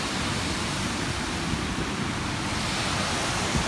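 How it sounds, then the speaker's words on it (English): Spring falls on Tacknot Creek pour in a steady, dense hiss and roar, constant and fairly loud with no other sounds. "Tacknot Creek to these falls in the spring."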